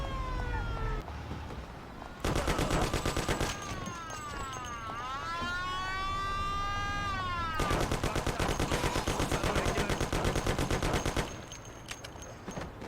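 Rapid bursts of gunfire rattle through a bank robbery shootout in the video game Mafia, including a pump-action shotgun, with dense volleys alternating with sirens and wailing tones, loud and continuous across the scene.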